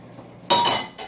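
A metal frying pan handled on a kitchen stovetop while cooking swordfish, giving a brief bright clank and scrape, loud and close, after a moment of quiet.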